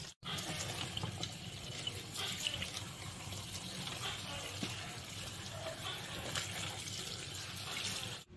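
Tap water streams steadily into a sink as salted cucumber and pechay are rinsed, a constant close splashing hiss with small irregular spatters as the vegetables are handled.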